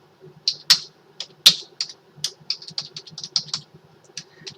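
Typing a string on a computer keyboard, a close run of sharp key clicks in uneven bursts with short pauses, alone with no talking.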